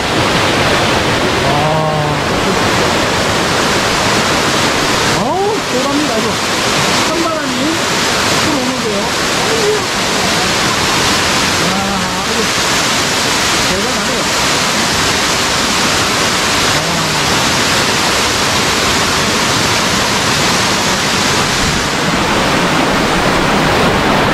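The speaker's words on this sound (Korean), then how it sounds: "이 폭포 한번 보시죠 자연산 폭포인데" Steady, broadband rush of a natural waterfall fills the whole stretch, with a person talking over it intermittently.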